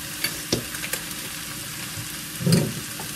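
Vegetable stock is poured into a pan of sizzling tomato paste and Italian herbs for vegan lasagna. A steady fry with a few clinks leads to a louder bubbling surge near the end.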